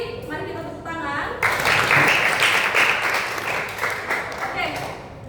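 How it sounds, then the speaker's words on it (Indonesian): A classroom of students breaks into applause after a brief stretch of speech, the clapping loud and close and fading slightly toward the end. "Mari kita tepuk tangan."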